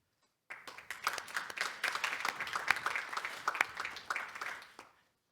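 An audience at the OECD-Korea forum on AI and tourism breaks into applause, a dense burst of many hands clapping for about four seconds that swells, holds, then tapers off.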